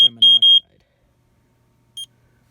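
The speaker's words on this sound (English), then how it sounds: "That FADC struggles when alarming in carbon monoxide." An FADC alarm sounding a carbon monoxide warning gives three short, piercing beeps in quick succession, then silence and a single shorter beep about two seconds later, close and loud.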